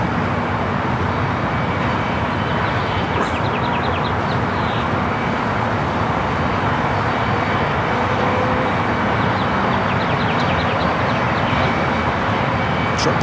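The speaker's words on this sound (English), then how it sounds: "It's a 7-year-old 787-9 Dreamliner. Again, coming in from Paris, next arrival on 25 left." A seven-year-old Air Tahiti Nui Boeing 787-9 Dreamliner from Paris arrives on runway 25 left at LAX, a constant broad jet rumble with a faint tonal hum, under someone talking throughout.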